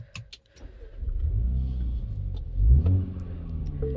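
A Mini Cooper Countryman engine starts with a brief crank and catches into a steady mid-pitched idle, then swells in a short rev before settling, heard up close with no talking.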